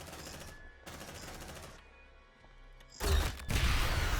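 Gunfire in the sci-fi video game Aliens: Dark Descent: loud, rapid automatic bursts with two sustained volleys, a quieter pause, then heavier, denser shooting toward the end.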